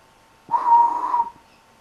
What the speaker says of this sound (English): But a whistle was heard from them.